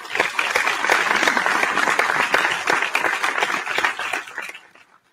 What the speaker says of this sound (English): Please give a round of applause for our sixth grade boys participants.